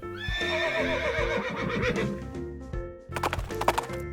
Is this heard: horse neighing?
yes